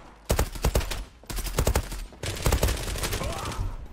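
An M4-68 AUG rifle fires in the online shooter game Zula, sounding as three quick bursts of sharp, rapid shots with short gaps between them.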